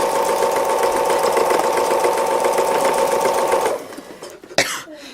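A sewing machine stitches free motion embroidery on an autumn owl wall hanging, a loud, fast steady whirring hum that runs for several seconds before stopping, followed by a cough and a few faint handling noises.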